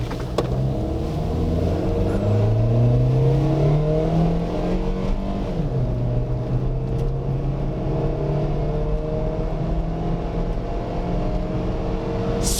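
A Toyota Succeed pulls away and accelerates on asphalt, its engine note climbing steadily through a gear change, loud and close from inside the car, with no talking.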